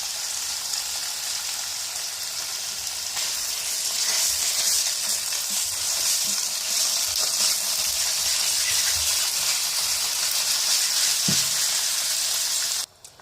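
Mutton mince sizzling and frying in a pan with onion, a steady, loud hiss of hot oil that runs unbroken for over ten seconds before cutting off abruptly, with no voices.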